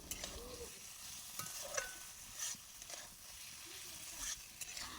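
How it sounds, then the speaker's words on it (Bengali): Boiled potatoes stir-fried with cumin paste, chopped ginger and chilli in a pan, with a steady soft sizzle and repeated scraping stirs, close and fairly quiet. "এর মধ্যে দিয়ে দেবো জিরে বাটা, আদা কুচি আর লঙ্কা কুচি দিয়ে ভালোভাবে কষিয়ে নেব"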